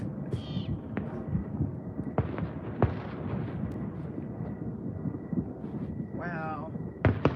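Fireworks explode over Southern California cities on an evening in a garden: scattered sharp booms and cracks, some distant and a few louder, over steady outdoor background, with people talking and a bird chirping.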